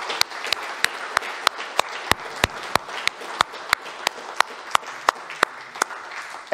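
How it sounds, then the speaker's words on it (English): Sharp, evenly spaced hand claps from a single clapper sit over a softer wash of audience applause at an Arctic conference as panel speakers leave the stage, with no talk heard. "And while we clap them down from stage"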